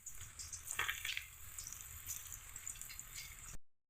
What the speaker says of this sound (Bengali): তেলে আমরা পকোড়াগুলো ছেড়ে দিচ্ছি।